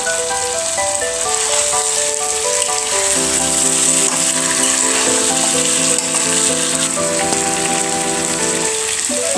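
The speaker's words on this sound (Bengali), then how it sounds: "এখন দিয়ে দিব কয়েকটি কাঁচামরিচ।" Chicken with green chillies frying in a pan hisses steadily and continuously, with music playing over it throughout.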